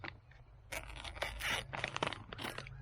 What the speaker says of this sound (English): let me open the bag. I'll cut it open over here.